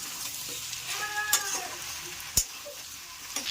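Green jackfruit curry sizzles as it is sautéed and stirred in a pan. A steady frying hiss runs throughout, broken by a couple of sharp clinks of a spoon against the pan.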